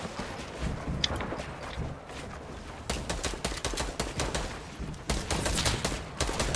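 Fortnite gunfire crackles in rapid bursts and scattered single shots, fairly loud and continuous through the stretch, with no voices on top.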